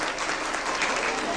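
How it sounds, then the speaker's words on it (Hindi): An audience at a Jashn-e-Azadi Pakistan independence celebration claps steadily in agreement, a dense wash of applause throughout with voices mixed in. "तालियां बजा के आप अपनी रजामंदी का इजहार करें।"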